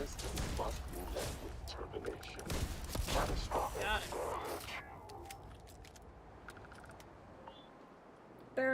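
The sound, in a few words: gunfire in Starfield video game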